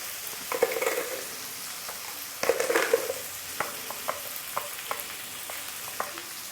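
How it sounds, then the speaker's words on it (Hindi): Chopped tomatoes with salt cook in a pan, a soft steady sizzle punctuated by repeated light clicks and taps of a spoon stirring, close and fairly quiet. "तो पहले थोड़ी देर हम टमाटर को पका लेंगे। और इसमें नमक डाल देंगे जिससे टमाटर अच्छे से गल जाएं।"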